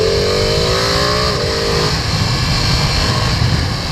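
A Ducati Panigale V2 motorcycle with its stock exhaust revs loudly, the engine pitch sweeping up and dropping back before settling into a rough, steady roar up close.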